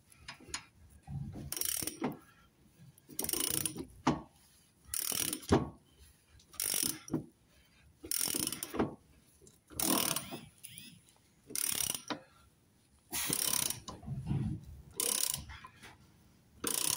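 A spanner ratchets on a rear lower shock bush bolt of a Jaguar XK8, giving repeated close bursts of rapid clicking, each lasting about a second and separated by short pauses.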